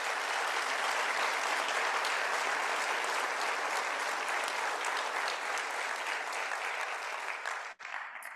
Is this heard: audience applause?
yes